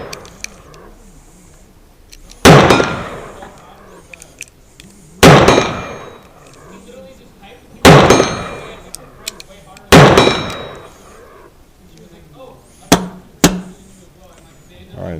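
Four loud, sharp gunshots from a 1911 pistol at a shooting range, spaced a few seconds apart, followed by two smaller pops near the end.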